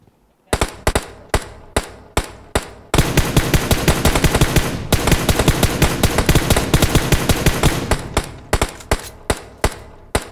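Loud gunfire in PUBG Mobile: single sharp shots at first, then a dense sustained burst of rapid automatic fire, tapering back to spaced individual shots.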